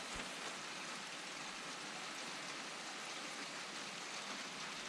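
Heavy rain falls steadily in a dense, unbroken hiss, loud and close, like a downpour drumming on surfaces all around, with no voices.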